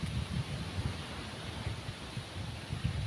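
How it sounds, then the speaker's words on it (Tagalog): Wind gusting across an island by the sea, a steady low rumbling buffet on the microphone with faint broadband rushing, fairly quiet and without talk. "Mahangin dito mo."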